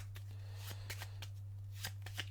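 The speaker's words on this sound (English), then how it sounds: "Give us a little bit of a shuffle." Cards for the board game Cartographers being shuffled: faint, scattered riffling taps and flicks over a steady low electrical hum, with no voices.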